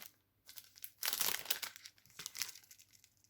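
Plastic foil wrapping around AliExpress jewellery crinkled by hand in a few short, quiet bursts close by.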